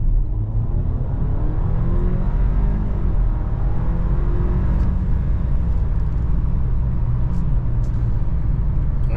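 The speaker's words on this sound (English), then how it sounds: "kind of a full throttle acceleration there." An Audi A4 quattro rental car under full-throttle acceleration, heard from inside the cabin as a steady, loud engine drone and road rumble that keeps building without pause.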